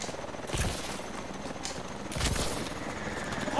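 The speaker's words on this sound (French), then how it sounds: "Rejoignez l'hélico." Military helicopter in the video game Advanced Warfare, a steady rotor drone with low thumping beneath, broken by two louder blasts or bursts of gunfire.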